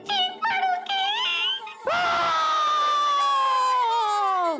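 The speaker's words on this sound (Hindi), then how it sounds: "ये किसकी चीखने की आवाज है?" A loud, sustained high-pitched scream bursts out after a short shrill cry, wavering and holding for several seconds before tapering off, with no other talking.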